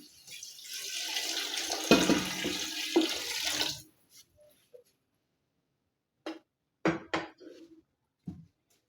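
Water poured into a pot of stock for chicken pilaf, a steady gushing pour for several seconds, followed by a few short clinks and knocks of pots and utensils, close and clear in a quiet kitchen.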